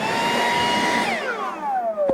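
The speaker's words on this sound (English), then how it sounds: "I've found it's a whole lot easier just to get a blower" Leaf blower blasting sawdust off a sawmill in cold weather, a loud steady roar and whine that drops in pitch as the motor winds down near the end, with no talking.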